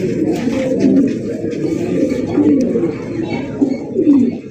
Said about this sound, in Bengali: নটটা প্রচুর পরিমাণে ডাকাডাকি করে।